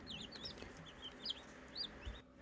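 Newly hatched chicks, including black Australorp chicks, cheep in an incubator: several thin, high peeps scattered over a faint, steady background hum.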